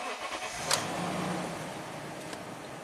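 A Toyota V8 with low power, a lean-running condition and low fuel pressure cranks and catches with a brief sharp burst, then settles into a steady, fairly loud idle.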